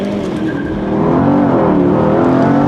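A Porsche Panamera GTS launches hard under launch control in Sport Plus mode, its engine note climbing loud and close as it accelerates, with the roar swelling and rising steadily.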